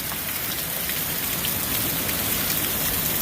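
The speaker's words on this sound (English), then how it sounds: "Yeah, it's raining." Heavy rain pours down steadily and densely outside, drumming and splashing hard enough to overflow the gutters, a loud continuous hiss with no pauses.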